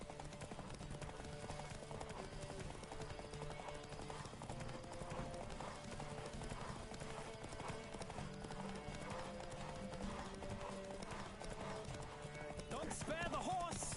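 Horse hooves clip-clop in a steady galloping rhythm throughout, from The Witcher 3 game, with music and ambient game sound underneath and a brief whinny-like swell near the end.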